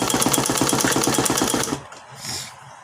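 A sewing machine stitches fabric for a blouse neckline in a fast, loud, even rhythm for under two seconds, then stops, leaving a soft hum and a faint rustle.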